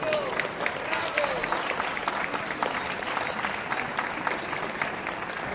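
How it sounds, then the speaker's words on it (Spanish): Steady, dense applause from an audience at a digital art awards ceremony, continuous clapping held at an even level throughout, without a break or any voices rising above it. "Un aplauso, hombre."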